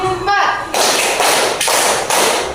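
A classroom of children claps in a counted concentration routine, several loud broadband group claps in an uneven sequence, with a brief voice at the start.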